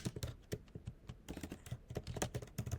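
Rapid typing on a computer keyboard, a dense irregular patter of close key clicks with brief pauses, quiet and with no talking.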